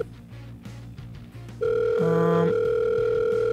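Ringing tone on a call placed in Minecraft: a steady electronic telephone tone starting partway through with a brief dialing-like pulse, loud and close, over a low in-game musical background, with no talking.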